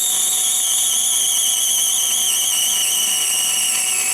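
An Accusize parting tool power-feeds into 5/8 inch brass stock on a lathe turning at 440 RPM, a steady high-pitched whine with a constant hum underneath, continuous and close for several seconds.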